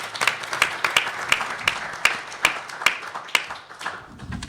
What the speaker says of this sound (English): Please provide a warm round of applause for Mr.